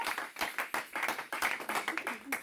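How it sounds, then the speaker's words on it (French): Applause from a church congregation at a consecration service, rapid dense clapping from many hands, fairly close and steady throughout with a few voices mixed in. "Pendant qu'ils vont reprendre place, on acclame"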